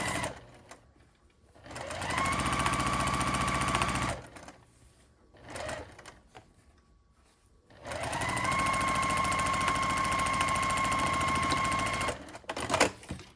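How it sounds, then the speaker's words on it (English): A sewing machine stitches a tote bag seam with a quarter-inch seam allowance in two long, steady, close runs, separated by a short pause with faint handling noise. "And sew on this side with a 1/4 inch seam allowance"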